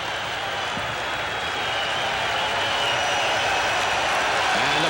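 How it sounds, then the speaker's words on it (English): A large baseball stadium crowd cheering and applauding at a Red Sox game, a steady roar that swells slightly as it continues, with no clear talk above it. "Crowd up again."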